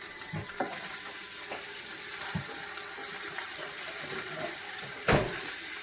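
Garlic fries in a pan with a steady, soft sizzle, broken by a few clunks and stirring scrapes and one sharper clatter near the end.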